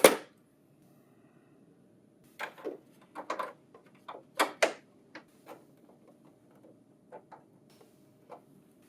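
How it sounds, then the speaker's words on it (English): Printer hardware work on a CS963/CX833/CX961-series office printer: a sharp opening clack, then a quiet run of small metallic ticks and clicks as a screw is fitted, close and faint. "Open door G, and then install the screw."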